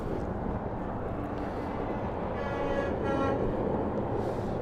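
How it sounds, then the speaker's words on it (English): Trucks in a protest convoy roll past with a long blaring horn rising over a constant low road rumble, moderately distant. "You hear the trucks going by honking"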